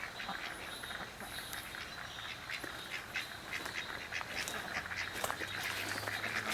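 Ducks quack faintly in the distance near a full farm dam, scattered short calls over steady outdoor background noise, with no one talking.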